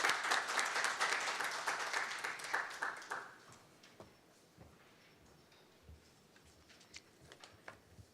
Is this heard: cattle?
no